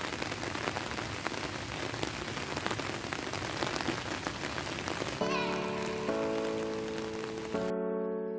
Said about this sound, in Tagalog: Lumalakas na kasi ang ulan